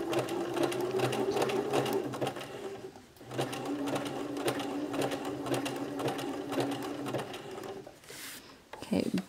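A sewing machine stitches rag doll bloomers in steady running bursts, with a short pause around three seconds and a stop near the end, followed by a few brief handling sounds.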